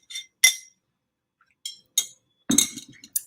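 Water in a wine glass gives several bright, separate clinks with short ringing tails, spaced irregularly across a few seconds in an otherwise quiet room.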